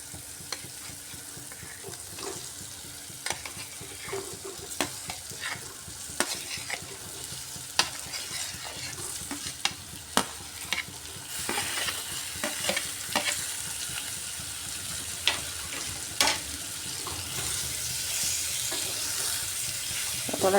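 Pointed gourd and ridge gourd stir-fry in a spice paste, a steady sizzle running throughout with frequent sharp scrapes and clicks of a spatula against the pan, close and continuous with no talking.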